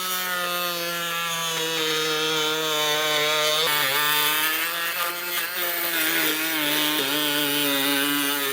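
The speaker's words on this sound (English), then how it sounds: "I'm just going to use a rotary tool." Rotary tool cutting a plastic trailer hitch part on a 2024 Hyundai Ioniq 5, a continuous high whine with a grinding edge and small changes in pitch as it bites, loud and close throughout.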